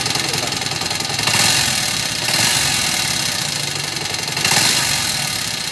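A noisy Kawasaki R180 motorcycle engine runs close by, with a continuous rough mid-pitched drone and mechanical clatter that swells a few times as if revved slightly, with no speech over it.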